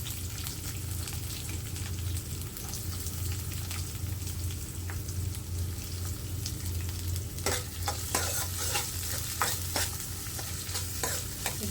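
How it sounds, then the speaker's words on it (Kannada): Chopped onions and garlic fry in a pan, a constant sizzle with scraping stirs that grow busier and sharper toward the end, and no voices. "ಇದು ಗೋಲ್ಡನ್ ಬ್ರೌನ್ ಆಗೋವರೆಗೂ ಹುರ್ಕೋಬೇಕು"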